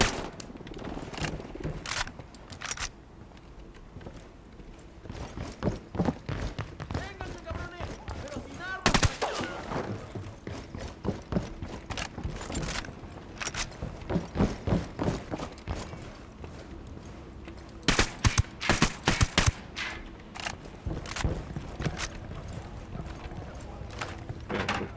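Repeated gunshots and machine-gun bursts crack out in scattered volleys across a firefight in the Ghost Recon Wildlands video game, loud and sharp against quieter gaps, with shouted voices between them.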